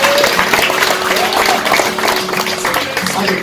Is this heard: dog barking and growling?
no